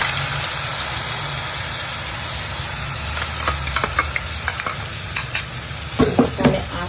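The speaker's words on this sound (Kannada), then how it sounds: "ತುಪ್ಪ ಮತ್ತೆ ಬೆಣ್ಣೆ ಎರಡು ಮಿಕ್ಸ್ ಆದ್ಮೇಲೆ ಅವಾಗಲೇ ನಾವೇನು ಗ್ರೈಂಡ್ ಮಾಡಿ ಇಟ್ಕೊಂಡಿದ್ವಿ ಆ ಮಸಾಲೆನ" Ground masala sizzling as it fries in a mix of melted butter and ghee, a steady low hiss with a few soft stirring clicks and scrapes near the end, no talk.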